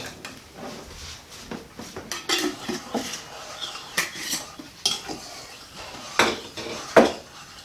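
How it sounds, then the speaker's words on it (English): Sugar being stirred in liquid until it dissolves for kombucha, a spoon clinking and scraping against the container in irregular close bursts, moderately quiet and without talk. "And now we're going to stir this until fully dissolved."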